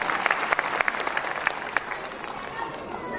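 An audience fills a hall with sustained applause during a Shree Maharaja Agrasen Jayanti event, the clapping dense and steady with sharper individual claps close by and murmuring voices underneath.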